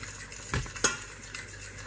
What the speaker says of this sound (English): We'll just stir this around